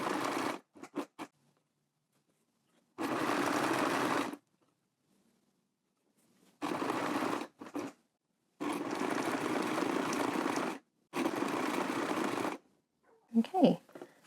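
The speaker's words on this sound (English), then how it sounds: "zigzag this end down here all the way to the other end of the elastic, stretching it slightly as we sew that down" A sewing machine runs a zigzag stitch along elastic for doll underwear, several bursts of steady whirring separated by pauses, with brief clicks and handling noise between runs.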